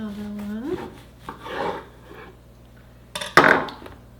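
A knife saws through a loaf of homemade-style bread in a few rough, rasping strokes, with a louder crunchy cut near the end, following a brief spoken word at the start.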